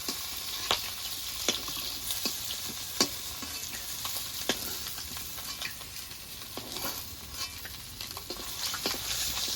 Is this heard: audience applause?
no